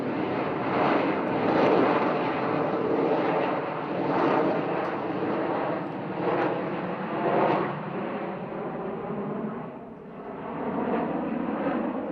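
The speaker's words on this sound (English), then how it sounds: "our lead solo will perform a minimum radius turn. This is a 7G maneuver." Blue Angels lead solo jet flying a 7G minimum radius turn at an air show, a loud, continuous roaring engine rush that swells and dips slightly over twelve seconds without any talk.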